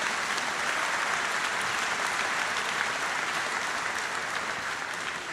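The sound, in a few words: applause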